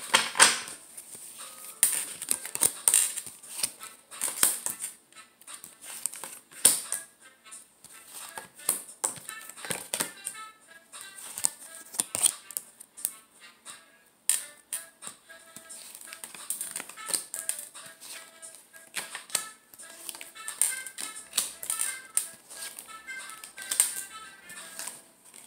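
Tarot cards shuffled, tapped and laid down in a steady run of close, crisp clicks and soft slaps, with no talking.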